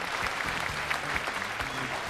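Audience applause at an Uzbek game show prize segment, a steady dense clapping that fills the whole stretch at even loudness, with a few faint voices underneath.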